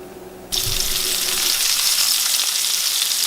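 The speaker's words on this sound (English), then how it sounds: "So we are cooking a nice juicy steak, and we're shooting for medium" A juicy steak cooking to medium drops into a hot pan and sets off a sudden, loud, steady sizzle that carries on evenly and close by with no voices over it.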